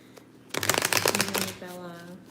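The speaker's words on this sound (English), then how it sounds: "shuffle the deck a little bit" A deck of cards being shuffled: a quick, close run of crisp riffling flutters lasting about a second, followed by a short voiced sound.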